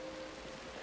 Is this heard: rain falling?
yes